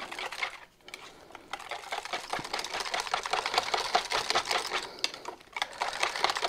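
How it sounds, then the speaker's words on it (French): A whisk beats batter for a coconut-banana flan in a bowl, a steady rapid scraping and clicking rhythm close by with a brief pause near the start, no voices. "Hop, on reprend le fouet."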